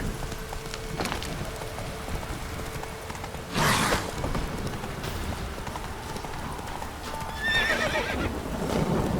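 Horse hooves clip-clop steadily at a gallop in the video game Witcher 3, with occasional whinnies and a louder burst around the middle and near the end, heard alone without talk.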